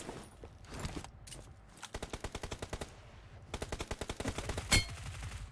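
Automatic gunfire rattles in rapid bursts during a 2v2 PUBG team deathmatch, with several quick strings of shots, short pauses between them and one sharper crack near the end.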